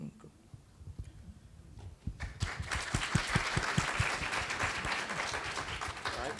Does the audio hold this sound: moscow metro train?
no